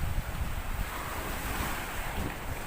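Sea waves wash steadily onto a clean island beach, a broad continuous surf roar mixed with gusting wind buffeting the microphone, with no voices.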